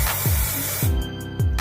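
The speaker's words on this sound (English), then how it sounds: "And then I like to spray it" Hairspray hisses from an aerosol can onto styled hair in a long continuous burst, followed by short quick puffs, close and fairly loud with no talking.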